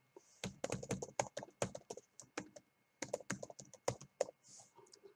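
Rapid keystrokes on a computer keyboard as an email address is typed, crisp close taps in quick bursts with a brief pause midway, no voices.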